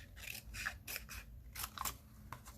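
Scissors trimming paper for a handmade craft cover, a series of crisp snipping bursts in an irregular rhythm, close and fairly loud with no talking.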